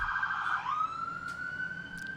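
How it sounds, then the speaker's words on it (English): An ambulance siren passes on a busy road, a loud, close wail that slides down in pitch as it goes by and then holds a steady tone, with traffic rumbling underneath. "I'll wait for the ambulance to go past."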